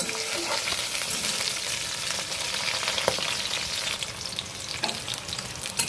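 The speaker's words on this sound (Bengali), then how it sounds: "রসুন আর কাঁচা লঙ্কাটা হালকা ভাজা হয়ে গেছে" Garlic and green chillies fry in a wok over medium gas, giving a steady, close sizzle with soft crackles and an occasional stir or spatter, and no one speaks.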